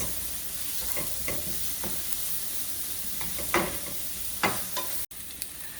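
Onions and garlic sizzle in a pan while being stirred, for a Vietnamese crab noodle soup: a quiet, continuous hiss broken by several sharp scraping clicks from the utensil.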